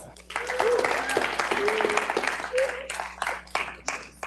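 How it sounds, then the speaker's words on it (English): An audience at a San Francisco demo day claps for a presenter, scattered applause mixed with talking and cheering voices that fades unevenly. "All right, another round of applause for Gus."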